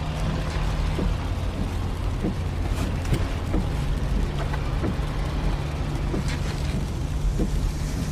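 Inside a moving car, a steady low road rumble and hum fills the cabin, with scattered soft bumps and clicks, and no one speaking.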